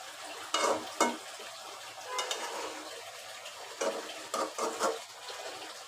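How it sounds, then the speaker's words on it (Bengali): Amaranth stems cooking with diced potato and shrimp in a pan, with soft scraping stirs and a faint sizzle in a few short bursts over a low steady background, no talking. "এখানে আমি আজকে ডাঁটা শাকটা আলু কুচি দিয়ে রান্না করছি, আর দিয়ে দিয়েছি চিংড়ি মাছ।"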